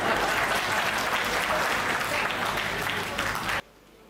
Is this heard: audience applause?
yes